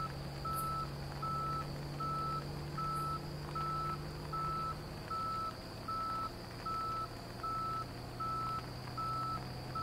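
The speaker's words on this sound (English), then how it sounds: "What type of car are we in that makes a noise when you back up?" In a video game, a steady reversing beep repeats at an even pace, about once per second, over a low engine hum, with no voices.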